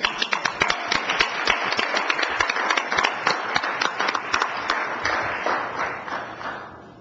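Scattered hands clapping at a school board business meeting, starting as a quick burst of sharp claps and thinning out toward the end, with little talk over it.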